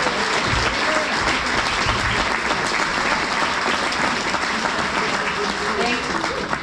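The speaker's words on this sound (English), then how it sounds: "Please give them a big round of applause" A theater audience at the Ark, a live music venue, applauds its volunteer ushers, bar staff and ticket takers: dense, steady clapping from a full room, sustained and even throughout.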